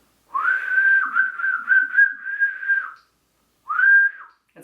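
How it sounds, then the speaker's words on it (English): A person whistles a long sustained tone with slight wavering pitch for nearly three seconds, then after a brief pause adds one shorter whistled note, clear and close with no talking. "can you whistle? I can, but I'm not very good at it."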